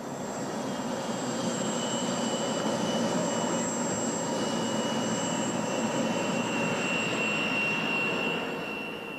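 A taxiing jet aircraft's engines whine and roar steadily at moderate distance, a continuous hum with a high-pitched tone, no voices.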